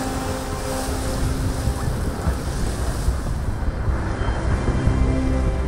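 Sea waves washing onto a Mallorca beach, a loud, continuous rushing surf with gusty wind buffeting the microphone, swelling slightly toward the end with no voices.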